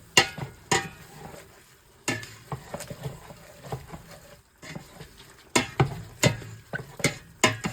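A spoon stirs vegetable beef soup in a pot over medium-high heat, making repeated scraping knocks against the pot at an irregular rhythm, close and fairly soft, with a faint bubbling underneath.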